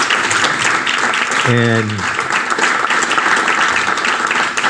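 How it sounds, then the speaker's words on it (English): Audience applause for a manufacturing panel, steady and loud through the whole stretch with dense clapping; a brief voice cuts in partway. "I would ask that you give all of our panelists a round of applause."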